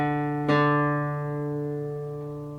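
Acoustic guitar string plucked during tuning, one clear note ringing over a note already sounding and fading slowly over two seconds, close and quiet.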